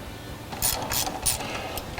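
A bolt on a new carburetor throttle cable bracket, rear corner of a Street Demon carburetor, tightened with a ratchet: a few quick, close clicking bursts over a quiet background, no talking.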